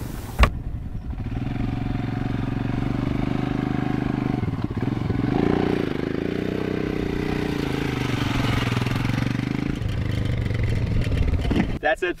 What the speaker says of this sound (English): I can bring the bike up the hill in full control